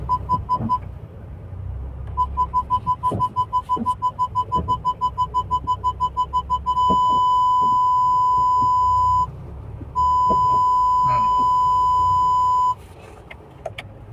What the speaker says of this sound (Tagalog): Sagad na nag-alarm na yung sensor eh.